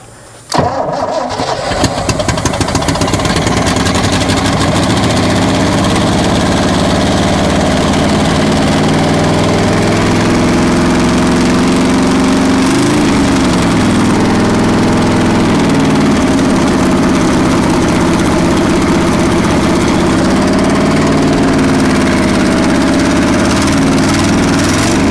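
An abandoned 1963 Chevrolet C-20 truck with a major exhaust leak on the driver's side starts with a brief crank, then settles into a loud, rough, steady idle that runs unbroken close by with no talk.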